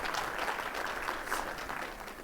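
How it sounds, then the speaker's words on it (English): An audience gives a round of applause, a dense, even wash of many hands clapping at once, fairly soft and steady throughout with no talk over it. "So give them a round of applause."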